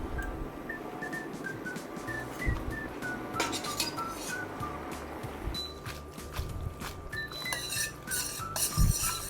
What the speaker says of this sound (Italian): andiamo a mettere nel sugo e andiamo a saltarla fino a che non facciamo la nostra cremina magica